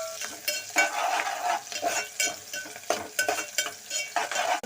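Curry leaves go into an egg tomato curry in a pan and get stirred well. The spoon scrapes and clatters in an irregular rhythm over a soft sizzle, close by, with no talking.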